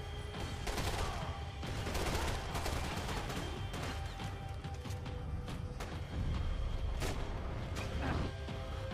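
Dense, continuous gunfire in the video game Max Payne 3, with bursts of shots piling over one another and a constant loud din throughout, no pauses.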